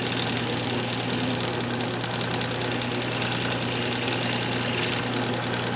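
A wood lathe runs steadily while a fingernail detail gouge turns a square wooden bowl, giving a continuous, fairly loud motor drone and hum with faint cutting texture throughout, with no speech.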